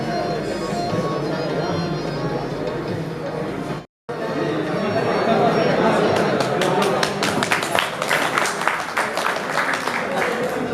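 Audience applause at an Engineers Day celebration honouring a retired engineer, a dense clatter of clapping that swells after a brief dropout, with chatter and a voice over it.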